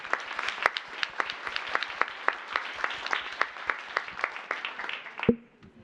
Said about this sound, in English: Big round of applause to our speakers.